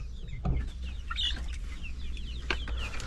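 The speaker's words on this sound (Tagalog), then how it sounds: "Yung manok na decaled brown." Decaled Brown chickens cluck in a scattered, irregular way in a coop, with short calls rising over a steady low background hum.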